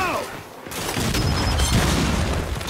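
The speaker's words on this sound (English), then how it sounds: "Incoming flashbang!" A flashbang grenade bursts during a Gears 5 match, a loud broadband blast swelling up after a quiet moment and lingering with a ringing tone and crackling debris, amid ongoing game noise.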